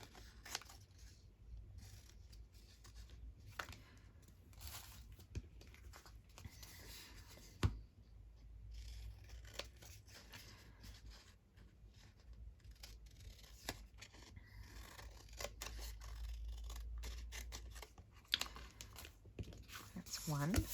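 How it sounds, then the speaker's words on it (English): Paper ephemera with glue on it trimmed by scissors in a craft session, giving intermittent snips and crinkles spread through the clip under low background hum, with a voice talking at times. "I'm just going to trim this one off because I've got glue all over it."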